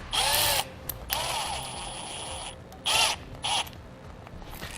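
A screwdriver or small power driver tightens a hose clamp on a transmission cooler hose, giving a few short buzzing bursts separated by quiet gaps, close up and alone.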